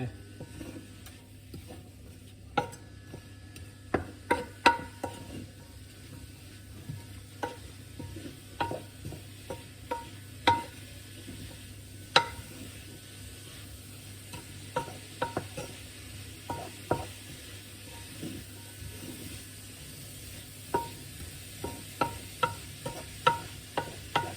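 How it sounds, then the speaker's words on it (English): Ground meat for shepherd's pie browns faintly in a pan with vegetables, steady low frying crackle broken by frequent sharp clicks and pops, some from stirring, continuing throughout. "bit of sizzle happening now."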